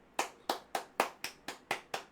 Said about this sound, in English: Can we clap it up for Matt?